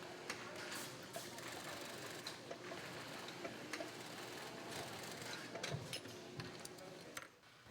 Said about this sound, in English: Workers secured the pack frame directly to the BCD body through the back pad using a special heavy-duty sewing machine.